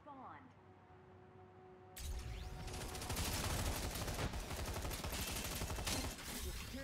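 Rapid gunfire in the online shooter Lawbreakers during a 2v2 tournament match, starting abruptly after a quiet moment and continuing as a loud, dense volley of shots for several seconds, with a player's voice talking underneath.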